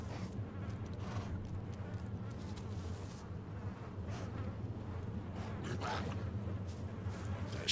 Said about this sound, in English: Oh, the bees started on us.